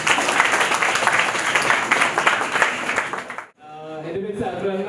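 A crowd at a wedding gathering gives a few seconds of dense, steady applause, which cuts off abruptly before a voice begins.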